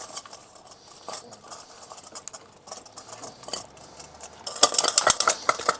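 Chicken wings are tossed in a mustard-based vinegar barbecue sauce in a bowl, with soft wet shuffling and patter that build into rapid clattering and scraping near the end.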